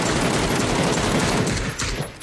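Dense, unbroken gunfire roars through a frantic video game firefight as a continuous loud volley of overlapping shots, easing slightly near the end.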